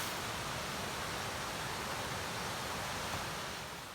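Steady rushing water from Jonas Creek beside a campsite in the Smoky Mountains, a continuous broadband wash that is fairly quiet and unbroken throughout, with no voices.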